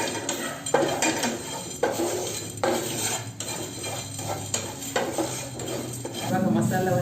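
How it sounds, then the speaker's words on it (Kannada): Masala being fried and stirred in a pan for a Kannada-style special dish, heard as repeated metal utensil scrapes and clinks against the pan at a steady stirring rhythm, close and fairly loud, with no talking. "ಹಾಗೆ ಅದನ್ನು ಇವಾಗ ಫ್ರೈ ಮಾಡಿಕೊಳ್ತಾ ಇದ್ದೇನೆ"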